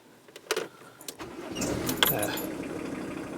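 Keys jangle and a few clicks come first, then an old car with a manual choke cranks and fires into a steady idle, heard from inside the vehicle in the Scottish countryside near Killiecrankie.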